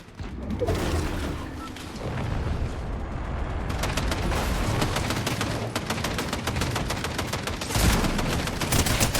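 Rapid bursts of video game gunfire over a dense, noisy backdrop, growing into fast, sustained volleys of shots.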